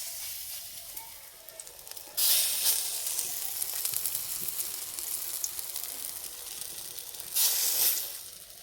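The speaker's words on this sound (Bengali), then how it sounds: "এবার বড়াগুলো ভেজে নেব। কড়াই দেবো সর্ষের তেল।" Pui leaf pakoras frying in mustard oil in a kadai, a steady hissing sizzle that swells loudly twice as fritters hit the hot oil, with faint crackles between and no speech.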